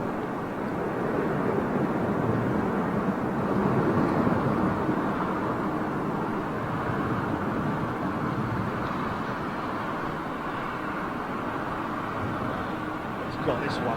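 An airliner lands in strong wind at London Heathrow Airport, giving a steady, broad roar of engine and wind noise that holds at a constant level throughout without clear peaks.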